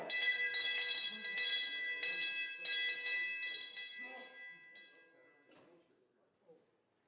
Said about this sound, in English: You gotta do the military bell.